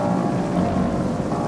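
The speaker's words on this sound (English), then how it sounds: "The city streets are crowded for the holiday, even with the rain." Rain falls over crowded city streets on a holiday, a dense, steady wash of noise with a low rumble underneath, continuous and fairly loud with no voices.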